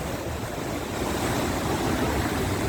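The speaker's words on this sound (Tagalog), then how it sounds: "ang lakas ng alon." Heavy surf roars continuously at Cabalitian Island in Sual, Pangasinan, waves crashing and churning close by with a loud, rushing wash and no voices.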